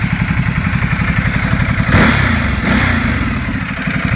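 A 2011 Ducati Multistrada 1200 S sport-touring motorcycle with Ohlins suspension idles close up with a loud, lumpy rhythmic throb, then swells briefly in a short rev partway through before settling back.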